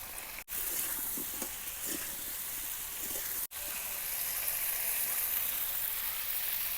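Okra frying in a pan with salt, turmeric and chili powder, a steady bright sizzle that runs throughout, broken by two brief dropouts, with faint stirring scrapes and no talking.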